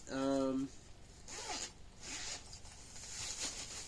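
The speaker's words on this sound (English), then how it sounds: "But there's just a single zipper there. We'll close that up." Single zipper on a ReadyWise 5-day survival bag pulled closed in one quick, close, crisp zip, followed by soft handling rustles and faint talk.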